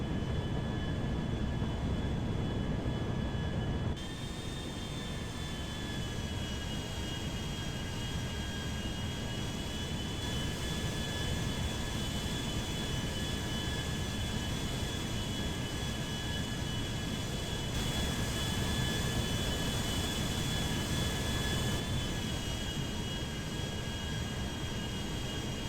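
A Concorde jet descending in GTA 5, heard as a loud, steady cabin roar with a constant engine whine that holds unchanged for the whole span, with no voices.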